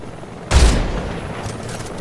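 A single Mosin Nagant rifle shot fired in Metal Gear Solid Delta: a sudden loud boom with a deep low thump that decays into a lingering rumbling tail over a faint steady background.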